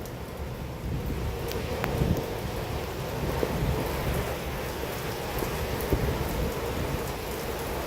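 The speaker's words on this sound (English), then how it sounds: "So far, the winds aren't really that strong yet." Gusty wind roars steadily through a severe thunderstorm in Stockbridge, Henry County, Georgia, with rain hissing and buffeting the microphone in a continuous broadband rush, no voices heard.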